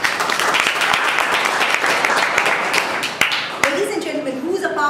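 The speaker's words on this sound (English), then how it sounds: "A huge round of applause to him." A crowd applauds a speaker at a speaking evaluation event with steady, dense clapping, while a voice starts talking over it near the end.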